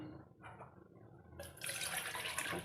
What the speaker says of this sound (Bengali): আমি 2 কাপ মতো জল নেব।